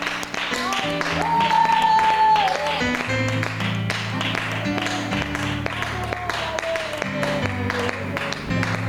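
A congregation claps and cheers in acclamation during a Sunday church worship service at La bonne barque. The applause runs steadily for the whole stretch, blended with loud worship music and singing.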